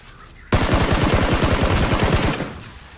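Fast, loud gunfire in PlayerUnknown's Battlegrounds, a tight burst of about twenty close shots that stops abruptly after two seconds, with no voices.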